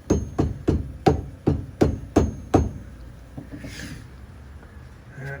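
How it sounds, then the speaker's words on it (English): Eight evenly spaced, dull thumps of a rubber mallet striking, loud and close, followed by quieter rustling and handling noise. "So let's get the rubber mallet out."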